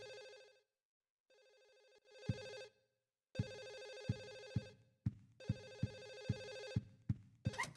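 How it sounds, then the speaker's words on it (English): A mild telephone-like ringing in the video game Silent Hill 4: The Room on PS2, bursts of trilling rings with short gaps and soft periodic thumps underneath, quiet and without speech. "if you could hear that, like, mild ringing,"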